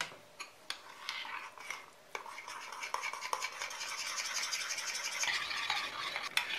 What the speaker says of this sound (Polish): Do śmietany wsypuję mąkę. Dokładnie wymieszam.